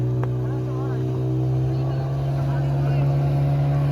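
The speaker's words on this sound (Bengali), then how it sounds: "আবার বেরিয়ে গেল আমাদের নৌকা" A motorboat pulls away on a ride at Massanjore Dam, its engine a steady loud droning hum that holds level throughout.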